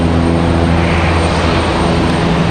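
A Velo 675 aircraft on final approach at Raleigh-Durham International Airport produces a loud, close, steady engine drone with a low hum, unbroken across the short stretch and free of speech.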